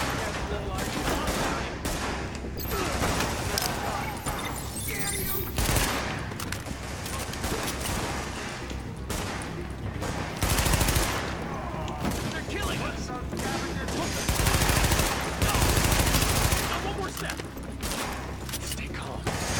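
Dense, continuous gunfire from the video game Tom Clancy's The Division, with rapid bursts and heavy shots layered almost without pause over background game noise, while a player talks throughout.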